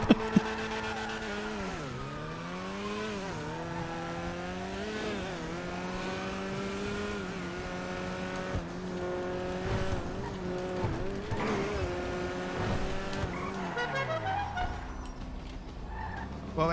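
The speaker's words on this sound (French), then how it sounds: "Petite course de rue." A car in a street race revs up and down through rising and falling engine tones, with a tire squeal, before the engine winds down near the end.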